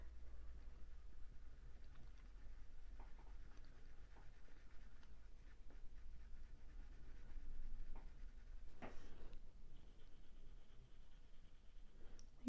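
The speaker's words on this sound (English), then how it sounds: "I've got a sharp bit on my pencil which is not cooperating." A pencil shades a drawing of a mallard drake duck, with quiet continuous scratchy strokes rubbing across paper and a low steady hum beneath.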